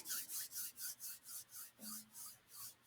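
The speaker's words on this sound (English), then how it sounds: "And rub your hands together." Two palms rub briskly together in a quiet room, a close, soft rasping swish repeated in about ten even strokes.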